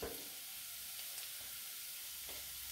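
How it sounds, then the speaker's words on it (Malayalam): Vegetables and curry leaves fry in a pan for sabudana upma, giving a steady close sizzle with faint stirring scrapes throughout. "കുറച്ച് കറിവേപ്പിലയും കൂടി ചേർത്ത് നമുക്കൊന്ന് ഫ്രൈ ചെയ്ത് കൊടുക്കാം"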